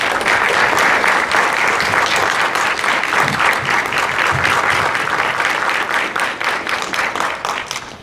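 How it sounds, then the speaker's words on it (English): A crowd gives a sustained round of applause for Yuma police detectives after an arrest is announced in a 2014 Castle Park fire case. The dense clapping is loud and continuous, then thins slightly toward the end. "If you join me in a round of applause for them."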